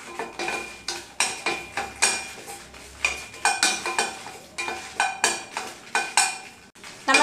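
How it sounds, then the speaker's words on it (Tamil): About a dozen dried red chillies tossed in a dry metal pan, a steady run of rhythmic scraping and stirring strokes against the pan, close and fairly loud, with no talk. "வரமிளகாய் சேர்த்துட்டு நல்லா வறுத்துறலாம்"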